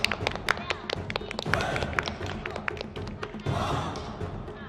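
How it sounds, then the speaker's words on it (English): Classmates clap for young Sichuan Opera students performing basic movements, a scattering of sharp, uneven handclaps with thumps and footsteps, fairly close, mixed with background voices. "you can see that their classmates are clapping for them"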